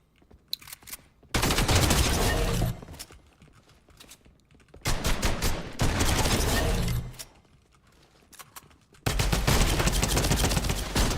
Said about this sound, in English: I'm thinking they're shooting, bro.